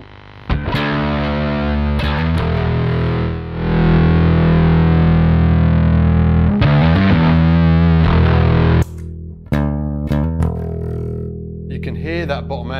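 A bass guitar played through an Aguilar distortion pedal gives loud, sustained, gritty notes with a heavy low end, holding long tones and then shifting to shorter plucked phrases, with speech in between.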